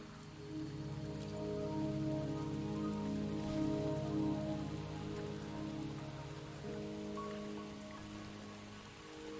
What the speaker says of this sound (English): Don't worry, the rain won't last much longer.